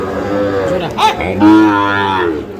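A cow lets out a couple of loud, drawn-out moos close by, with faint background noise, at a cattle market.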